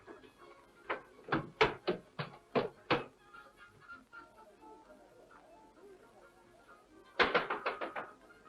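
Knocking on a door in a 1935 film, a quick series of sharp raps, then a pause, then another rapid burst of knocks, close and distinct against a quiet background.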